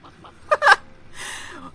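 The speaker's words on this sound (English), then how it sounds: "Why do you have chickens in your house?" Chickens in the Hidden Folks video game cluck in a short burst of a few sharp calls followed by a softer trailing cluck, close and clear against near silence.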